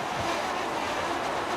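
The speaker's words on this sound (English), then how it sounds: "Well, it's quite windy." Steady rushing wind buffeting the microphone, a constant broadband roar with no voices.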